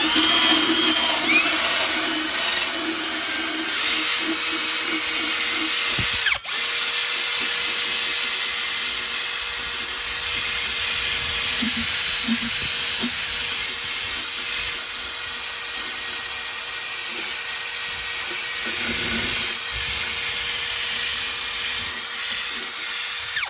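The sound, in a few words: wire wheel cleaning a Jaguar XJS underbody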